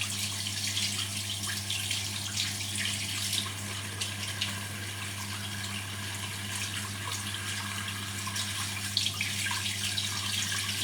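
Tap water runs in a steady stream into a sink while a face mask is rinsed off, a close, constant splashing over a low background hum with no talk.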